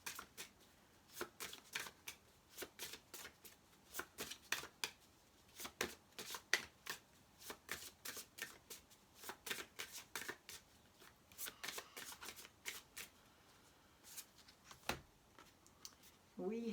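Oracle or angel cards shuffled by hand for a reading, quiet crisp riffling bursts repeating in an uneven rhythm throughout, close and soft with no talking.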